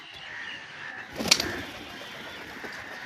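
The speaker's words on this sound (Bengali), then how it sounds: "ভাই দাদা একটা পায়রা নেমেছে।" A pigeon that has landed nearby gives a short, single coo that rises briefly out of quiet outdoor background noise, then fades.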